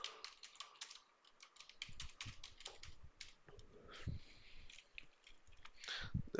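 Rapid clattering keystrokes on an aging computer keyboard, close and fairly quiet, with uneven bursts and short pauses.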